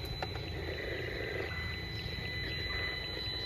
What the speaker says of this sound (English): the roaring noise that you hear here is actually cell towers